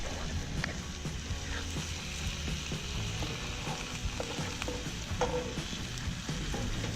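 Fresh catfish frying in hot oil, a steady close crackling sizzle with scattered pops and spatters throughout, no talking.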